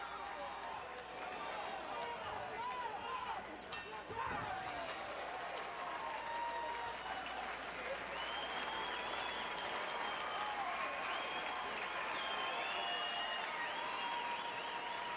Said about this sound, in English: The fans applaud in approval for Stephen Wilcox